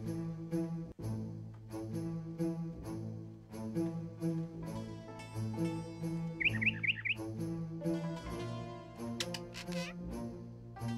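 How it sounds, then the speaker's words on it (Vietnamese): Birds in the puzzle game Hidden Through Time 2 chirp and tweet in bright, clear bursts over a steady melodic game music bed, with short trilling calls clustered near the middle. "Tiếng chim nó làm cũng đảo ha. Bấm vô con nào nó con nấy nó cũng kêu vậy."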